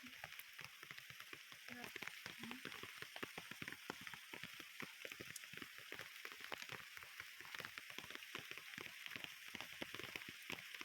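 Soft, steady rain pattering down, a continuous faint hiss sprinkled with tiny ticks and drips, with no voices.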